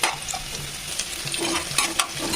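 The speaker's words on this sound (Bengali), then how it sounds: "সেরকম আমরা এই সবজিগুলো ফ্রাই করব।" Vegetables fry in a pan for chow mein, a close, steady sizzle mixed with bursts of stirring and tossing, with no voices.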